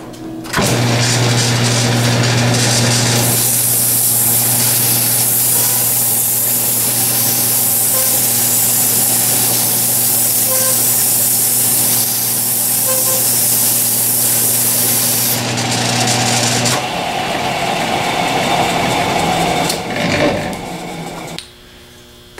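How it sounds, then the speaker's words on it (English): A metal armature shaft is sanded with 80-grit sandpaper in a circular motion, giving a sustained, loud abrasive hiss over a low mechanical hum. It eases off and turns into scattered scraping toward the end. "use the sandpaper to sand the short side of the shaft in a circular motion"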